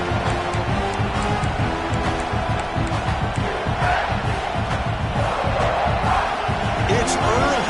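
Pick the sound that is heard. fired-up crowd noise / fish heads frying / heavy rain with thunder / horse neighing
fired-up crowd noise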